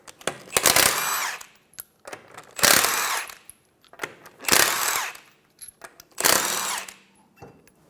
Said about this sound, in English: Remove the 5 lug nuts off your wheel using a 21mm socket.